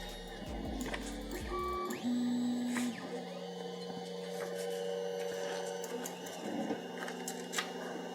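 A Longer LK4 3D printer's stepper motors whine and buzz as the print head travels to a front left corner, with rising and steady motor tones, small clicks and mechanical rattles, faint and close.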